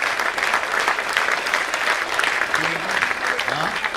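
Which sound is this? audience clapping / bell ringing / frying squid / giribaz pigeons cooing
audience clapping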